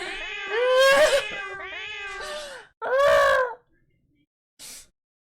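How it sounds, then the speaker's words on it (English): Several cats meow and caterwaul in loud, drawn-out cries, overlapping early on, then a separate long yowl and a short final meow after a pause. "I hope y'all don't expect me to feed all those cats."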